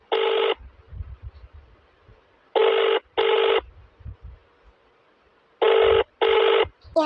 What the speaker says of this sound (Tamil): யார் இந்த டைம்ல ஃபோன் அடிக்கிறது?